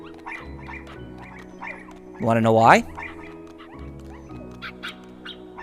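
Dalmatian puppies in the video game Kingdom Hearts give a single short, high yip partway through, heard over low game music while someone talks over most of the scene.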